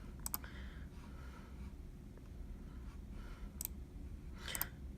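Sharp computer mouse and keyboard clicks come in sparse pairs and short bursts over a low steady hum, close and fairly quiet, with no voices.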